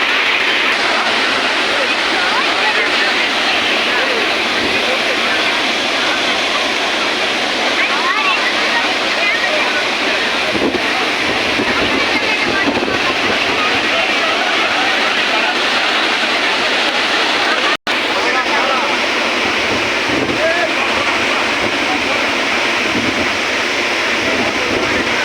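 A Kerala waterfall pours in a steady, loud rush of falling water that stays broad and continuous throughout, with no clear voices above it.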